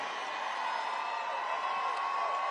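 Crowd applause and cheering at a Trump victory rally in Washington DC, a steady dense wash of clapping and whoops from a large audience, continuous and fairly distant throughout.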